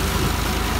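A 480-model tractor engine runs steadily at a tube well site, its low continuous rumble filling the short moment without talk.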